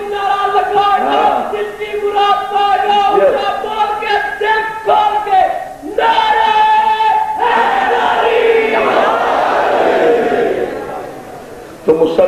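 A large crowd at a religious gathering chants a slogan in unison, loud and rhythmic, with repeated short call-and-response phrases that swell into a sustained roaring shout before fading.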